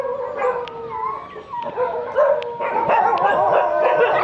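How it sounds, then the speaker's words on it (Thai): Many dogs at a dog care center in Phutthamonthon, Nakhon Pathom, Thailand bark, yip and howl together in a dense, continuous chorus, loud and close, with no speech. "หมานี่จะเห่าส่งเสียงดังตลอดนะครับ"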